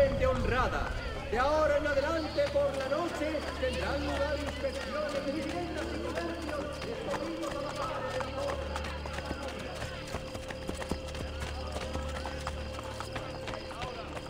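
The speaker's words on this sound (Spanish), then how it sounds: "Abrid paso a la guardia a caballo." Mounted guard horses gallop through a crowded street in Assassin's Creed Brotherhood, a steady hoof clatter with an occasional whinny running under loud game dialogue and background crowd noise.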